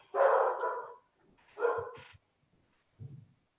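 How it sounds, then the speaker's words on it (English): Dog indoors barking, two close, loud barks followed by a softer, shorter woof, each separated by silence. "And now my other dog is barking."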